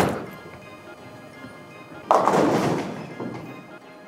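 A Purple Hammer Reactive bowling ball rolls down the lane of a bowling alley on a house shot, then strikes the pins with a sudden loud crash that rings out and fades over a couple of seconds.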